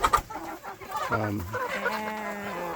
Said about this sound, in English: hens in a 10 by 18 foot chicken tractor.